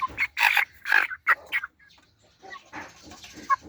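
Mixed breed Brahma chickens cluck and squawk close by in short, scratchy bursts, several calls in quick succession followed by softer, scattered clucking.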